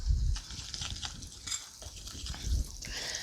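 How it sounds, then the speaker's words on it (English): Glaze for apple fritters being whisked in a bowl, a steady scraping, clinking stir with a few louder knocks against the side, close and alone. "So I'm going to finish mixing up my glaze."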